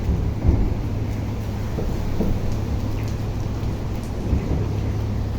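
Steady rain patters around a covered seaside boardwalk on Hong Kong's East Coast in North Point, with a low constant hum beneath and occasional soft knocks and splashes nearby.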